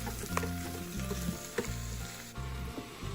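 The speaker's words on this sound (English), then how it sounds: "add in 1 onion that I thinly sliced and a package of portobello mushrooms that I sliced as well. And I'm just going to saute these for about 3 minutes" Thinly sliced onion and portobello mushrooms sauté in an Instant Pot, producing a close, steady sizzle with occasional stirring clicks.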